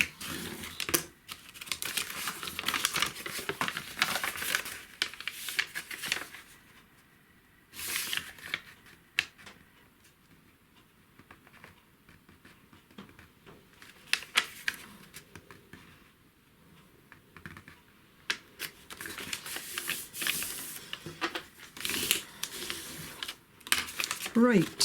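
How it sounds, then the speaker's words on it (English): A single sheet of paper is creased and folded back along its lines for a zine-style journal, crisp papery crinkles and sharp creasing snaps in bursts, close by, with a voice talking between them. "I'm just going to go over my lines, just fold them again, just in the kind of opposite direction"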